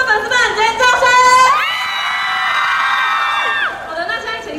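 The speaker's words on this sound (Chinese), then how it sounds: "老俊硕的粉丝们尖叫声！" Fans at a movie pre-sale fan meeting shriek and cheer together in a loud, drawn-out burst of high screaming that rises, holds steadily and then trails off into scattered yells.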